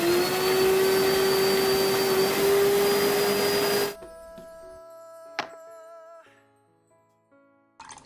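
Kitchen blender grinding coconut juice with pomegranate, glucose and sugar, a loud steady whirring roar for four seconds, then stopping as the motor winds down with a few faint clinks.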